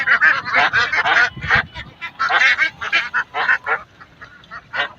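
A flock of ducks raised at a lakeside duck farm in Chennai quacks loudly and continuously, many harsh overlapping calls in rapid choppy bursts, close by.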